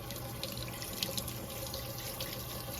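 Water runs steadily from a kitchen tap as a Dash Mini pizza maker is rinsed under it, a continuous, fairly close hiss with no talking.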